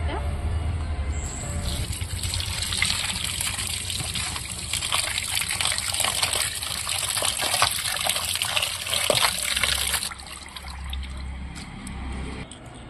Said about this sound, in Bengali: চলো এবার আমরা পরিষ্কার করে ধুয়ে নিয়ে আসি।